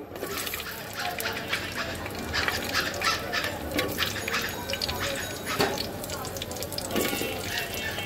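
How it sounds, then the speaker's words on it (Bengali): Steady sizzling of new potatoes frying in oil, with scattered utensil clatter and faint background voices. "তো আগে একটু হালকা ভেজে নিয়ে আলুটা, তারপরে দেব ফুলকপিটা।"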